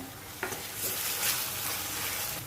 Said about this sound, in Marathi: आता आपण ह्यामध्ये आलं लसूणची पेस्ट घालून घेऊया